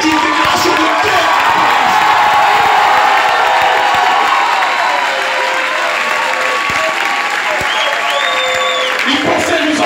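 Loud, sustained applause with cheering and scattered whoops from a large audience at a political rally speech in Paris, filling the whole stretch at steady intensity.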